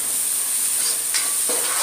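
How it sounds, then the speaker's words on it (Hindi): Shredded cabbage and carrot stir-fry in a pan for noodles, a bright, steady hiss running throughout with a couple of short scraping stirs near the end, close and alone. "अब मैं इसमें ये कैरेट ऐड कर रही हूँ। इसे भी 2 मिनट ऐसे हिलाएंगे।"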